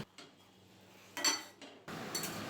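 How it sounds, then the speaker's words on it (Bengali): Fried bori lumps are mixed into spinach in a pan with a metal spatula: a few short, sparse scrapes and clinks of the spatula against the pan, quiet and close, with brief pauses between strokes. "তারপর বড়িগুলোকে খুন্তি দিয়ে মিশিয়ে নিচ্ছি।"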